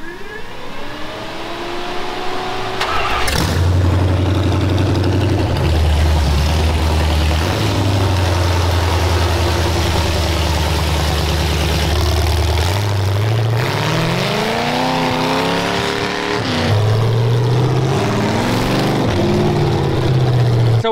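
A demolition derby car's engine loud and close on a test drive, revving up and down through long climbs in pitch, a heavy rumbling roar that never lets up.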